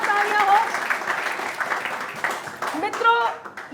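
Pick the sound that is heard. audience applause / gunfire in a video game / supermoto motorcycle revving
audience applause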